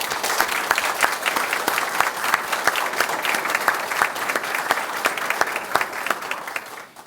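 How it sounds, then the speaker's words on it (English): A crowd at a 2014 middle school geography bee applauds the student contestants with steady, full-room clapping that stays even for about seven seconds before tapering off at the end. "let's go ahead and give them a round of applause"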